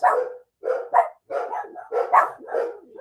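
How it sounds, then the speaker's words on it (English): Dogs barking outdoors in a run of about eight close, loud barks at an uneven rhythm, some clipped and some drawn out, with brief silent gaps and no talk. "You get the serenade from the dogs."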